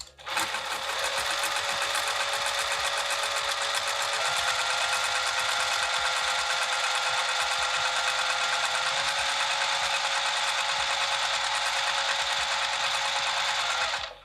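Sewing machine stitching a roll-up wrap, including back stitches and pivots at corners: a fast, continuous mechanical whirr with a rapid needle rhythm, running steadily and close up for the whole stretch, with only brief pauses at the start and end.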